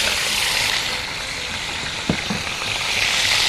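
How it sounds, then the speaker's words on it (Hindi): Raw mutton frying in ghee gives a steady, close, loud sizzle throughout, with one soft clunk partway through. "मटन है मेरे पास, इसको मैं समझे कि ये कच्चा है, इस सारे को डाल दूंगी और इसकी हम भुनाई करेंगे।"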